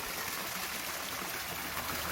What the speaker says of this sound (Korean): 어쨌든 이런 미니 사이즈의 폭포도 있습니다